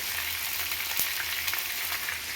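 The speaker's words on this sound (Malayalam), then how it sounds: "ചിക്കൻ വറുത്തിട്ടാണ് ഉണ്ടാക്കുന്നത്." Chicken pieces rubbed with turmeric, salt and chili powder fry in oil in a pan, giving a soft, steady hiss of sizzling with small crackles, quiet and uninterrupted.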